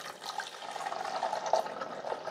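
Pure vinegar being poured into the water reservoir of a Black & Decker 5-cup 4-in-1 coffee maker, heard as a steady, close splashing pour that continues alone through the clip.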